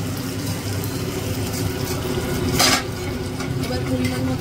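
Tempering spices (phoron) stirred into cooked dal in a pot, a soft continuous scraping and bubbling with one brief sharp clink of a utensil against the pan midway.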